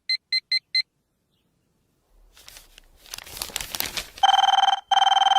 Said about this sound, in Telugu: అబ్బా, ఈ ఫోన్ చంపేస్తున్నా